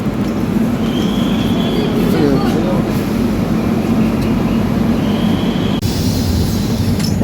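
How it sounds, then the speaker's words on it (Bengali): Passenger train pulling slowly out of Eluru station, a steady low rumble of wheels and carriages with faint squeals, heard from on board with background chatter. "ছেড়ে দিচ্ছে ট্রেনটা"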